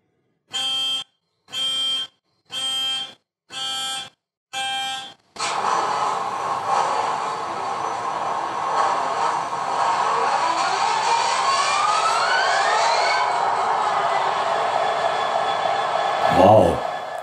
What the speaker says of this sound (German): wenn dieser Zweitakt-Diesel dann nach der Vorschmiederung anspringt und sozusagen losbrüllt